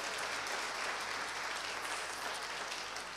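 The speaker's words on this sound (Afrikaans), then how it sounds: "Geef vir haar lekker aan 'n klap" Church audience applauding for a woman named Soreta, a continuous even wash of many hands clapping, steady and somewhat distant, lasting a few seconds without talk.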